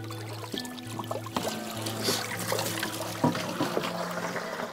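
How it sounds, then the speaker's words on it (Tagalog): Water is fetched and poured into containers, a faint trickling and splashing with a few knocks, set against a steady low mechanical hum and distant background voices. "Dito nag-iigib ng tubig si Tatay Rosibal."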